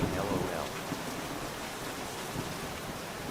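Rain in a hunting video game, heard as if from an enclosed spot, makes a steady dense hiss of falling drops with soft low rumbles underneath, continuous and evenly loud throughout.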